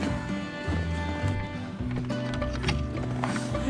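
Horses shifting and stepping nearby on a chilly winter day, hooves clip-clopping in an uneven, continuous patter with scuffs and bumps throughout.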